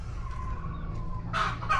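A backyard chicken clucks in a short burst near the end, loud and close after a steady low hum.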